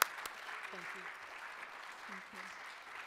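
Faint applause from an audience at a mesothelioma research talk, a soft wash of clapping in the background with a few brief voices murmuring over it.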